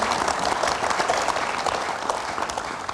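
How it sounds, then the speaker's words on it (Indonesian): Studio audience applauding during a televised political talk show, a dense, steady wash of many hands clapping close and loud for the whole stretch, with no voices over it. "mau tepuk tangan dulu"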